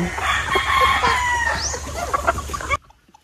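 Gamefowl roosters crow at a game farm, one clear nearby crow rising and falling amid clucking and other fowl, loud and busy before cutting off abruptly near the end.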